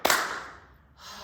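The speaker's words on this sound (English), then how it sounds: "clap your hands" A single sharp hand clap cracks once up close and then fades into a quiet room, with no voices.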